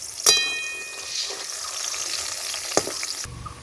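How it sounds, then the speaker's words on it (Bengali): Potatoes coated in turmeric and salt fry in hot oil in a kadai, giving a steady broadband sizzle with a couple of sharp clinks from a utensil, ending abruptly. "আলুটা কড়াতে ভাজতে দিয়েছি"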